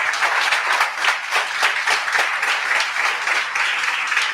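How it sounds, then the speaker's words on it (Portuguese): A church congregation claps during a worship service, a lively, rhythmic burst of applause at close range that continues steadily for several seconds. "Dê um aplauso ao Senhor Jesus."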